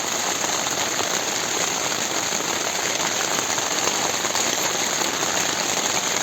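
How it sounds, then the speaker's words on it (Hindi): Heavy rain pelts a camping tent on a hike in the Barah Valley of Gilgit-Baltistan, a dense, loud, unbroken hiss of drops drumming on the fabric with no voices. "बारिश काफ़ी तेज़ हो चुकी है।"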